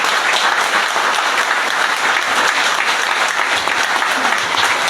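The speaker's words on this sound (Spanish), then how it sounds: "al cual le pido un gran aplauso." Loud, close, continuous applause from a large crowd honoring former president Julio María Sanguinetti at a democracy anniversary event, thick and unbroken throughout.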